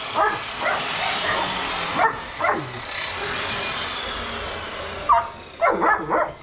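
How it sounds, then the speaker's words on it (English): A dog barks and yips in short bursts, a couple early and a quick cluster near the end, over steady background noise. "Hey, what you barking about, baby?"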